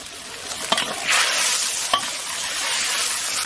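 Snapper braising in a large iron pot is stirred after dark soy sauce goes in, giving a steady sizzle with a few sharp scrapes of the utensil against the metal, close and moderately loud with no talking.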